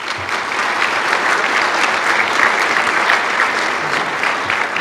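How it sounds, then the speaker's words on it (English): An audience at the 2014 USBC Hall of Fame induction ceremony applauds with sustained, dense clapping that stays loud and even from start to finish. "I would like a round of applause for the USBC Hall of Fame Committee"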